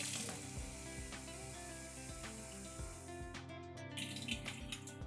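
Rice and toor dal lentils being rinsed in water in a home kitchen, a steady splashing, sloshing wash with running-water hiss and occasional clunks of the bowl, close and continuous with no talking.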